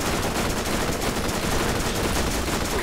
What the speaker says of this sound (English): Corrosive ass rocket launcher